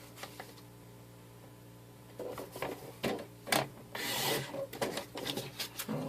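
A paper trimmer slices through cardstock for a stamping craft project: after a quiet pause come a few short rasping scrapes and shuffles as the blade slides along the cut, close and fairly soft.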